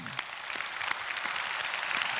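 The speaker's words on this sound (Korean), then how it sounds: "우리 주님께 박수합시다" A church congregation bursts into sustained applause during a sermon, dense and even, filling the space for a couple of seconds.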